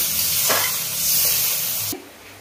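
Only a little water goes into a pan of hot, oil-released spice masala for a wedding-style dish, setting off a loud, close hissing sizzle with a burst of spitting, before the sound drops away sharply near the end.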